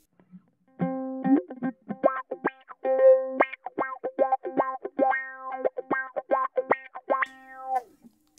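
Bass notes pushed through a Carl Martin Optical Envelope Filter pedal, each plucked note sweeping with a quacky, vowel-like wah in a funky rhythmic line, played alone.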